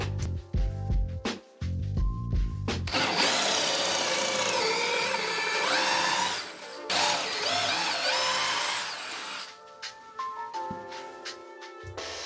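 A power drill bores pocket holes into plywood through a pocket hole jig, a loud sustained whine for several seconds between short clicks and tool handling, nearby and alone.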